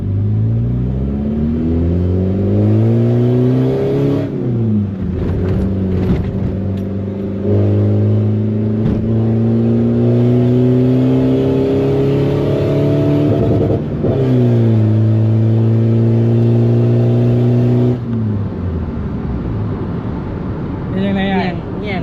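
A remapped car engine revs hard on a test drive, its loud harmonic tone climbing and falling through repeated throttle sweeps with gear changes, close and continuous, with voices talking over it.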